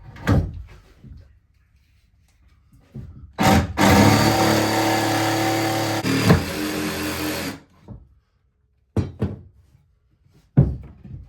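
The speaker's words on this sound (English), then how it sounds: "I don't know if I've got enough jigsaw blades to get through all this" A jigsaw cuts through thick, hard board for boat steps, a loud buzzing rasp of about four seconds that starts and stops abruptly, with knocks and handling thuds before and after.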